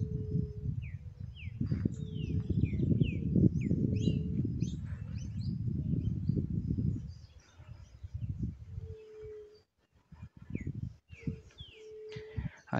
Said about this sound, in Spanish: Escuchen las aves, si se llegan a escuchar en el video.